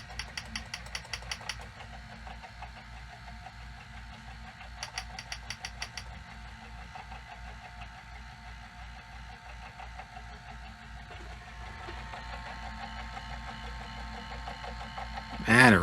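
A Sony SL-700 Betamax VCR from 1986 running in slow motion, its mechanism giving a steady clunky mechanical chatter with a constant hum and bursts of high ticking, ending with a brief louder thump.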